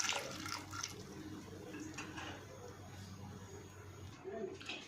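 Roughly a glass of water is poured over medium-sized drumstick pieces for cooking, a faint trickling, splashing wash that runs for a few seconds with no talk.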